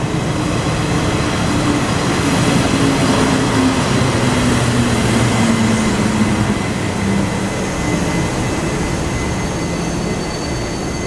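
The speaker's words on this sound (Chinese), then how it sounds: "月台第一侧即将进站的是学生专车" A Taiwan Railway student special train pulls into Songshan station, a steady low rumble and rolling wheel noise holding loud and continuous throughout, with faint tonal squeals drifting beneath.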